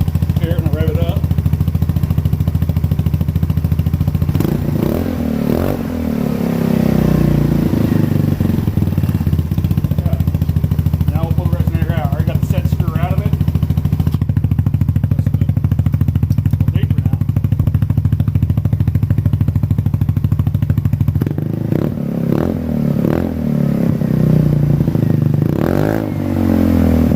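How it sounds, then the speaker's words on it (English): A Polaris Ace or Ranger 150 engine with a custom exhaust, running loud and close, revved up several times with rising and falling bursts over a steady idle throughout. "Put it down here so you can hear it and rev it up."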